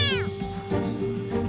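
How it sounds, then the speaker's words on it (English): A frightened kitten meows loudly and repeatedly, several close, high, insistent cries in quick succession. "was scared and couldn't stop meowing"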